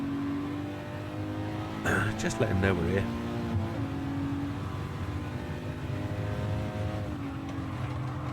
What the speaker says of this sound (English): But you hear this engine scream